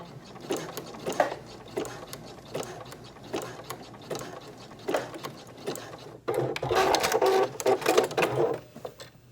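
A domestic sewing machine zigzag-stitches across the end of an elastic loop in a swim-fabric scrunchie, running in short repeated mechanical bursts with brief pauses, then a longer, louder continuous run near the end.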